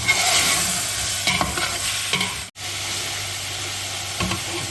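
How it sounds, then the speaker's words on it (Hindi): Beef being stir-fried in a pot for a nalli pulao, with a steady loud sizzle and scraping stirs at intervals, close up and without talk. "फ़िलहाल जो है हम 5 मिनट के लिए जो है ना गोश्त को भूनेंगे।"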